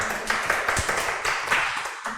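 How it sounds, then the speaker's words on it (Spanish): Audience applause at a Spanish-language conference, a moderate spread of hand claps in a room with a few sharper individual claps standing out, steady for a couple of seconds. "Para quienes también pido un fuerte aplauso"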